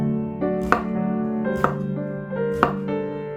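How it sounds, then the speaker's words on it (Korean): A knife chops eggplant into large chunks on a cutting board, three crisp, evenly spaced strikes over a sustained tonal hum in the background, with no talking. "가지는 나중에 요리할 때 수분이 빠져나가기 때문에 이렇게 조금 큼직하게 썰어 주시고요"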